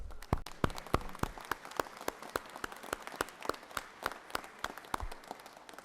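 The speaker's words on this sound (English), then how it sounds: "Why don't you stand so we can give you a round of applause" A sparse round of applause from a small group at the Georgia Senate chamber, honoring Georgia Forestry Commission staff: distinct, separate claps in a steady patter throughout, fairly quiet and without talk.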